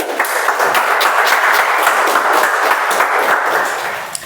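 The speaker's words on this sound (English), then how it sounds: "let's clap for Sarayu first" Audience at a Toastmasters club meeting applauding a speaker, a steady, fairly loud round of clapping with distinct nearby claps, tapering slightly at the end.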